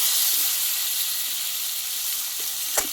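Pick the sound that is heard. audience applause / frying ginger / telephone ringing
frying ginger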